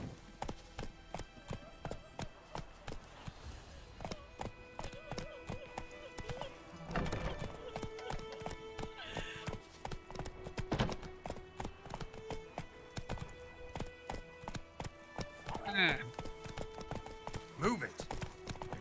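Roach, Geralt's horse in the game The Witcher 3, gallops in a steady rhythmic clip-clop with occasional snorts and whinnies, while game music plays and voices talk over it.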